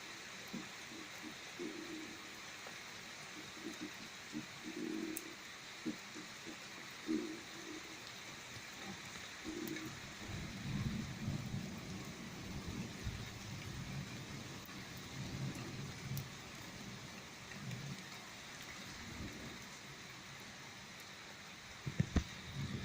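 A violent thunderstorm over Les Arcs-sur-Argens in the Var, with wind-driven rain: a steady, faint hiss of rainfall runs throughout, with soft low rumbles swelling and fading beneath it and no voices.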